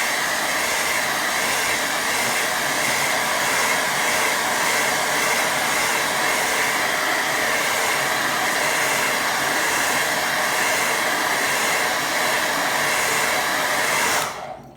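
A hair dryer blows steadily on a watercolour painting, a loud, even whooshing drone running continuously before cutting off abruptly at the very end.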